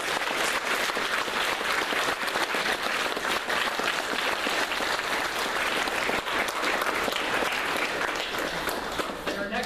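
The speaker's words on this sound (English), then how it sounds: "let's give our panelists a round of applause" A festival audience gives a panel a full round of applause, a dense and steady roar of many clapping hands that stays loud throughout, with voices mixed in.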